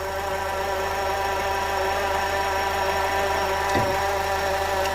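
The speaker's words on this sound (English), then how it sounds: "So I can hear the alternator for sure" A car engine idles steadily up close with a constant whine and hum from the belt-driven accessories, the alternator and idler pulley, plus a brief knock near the end.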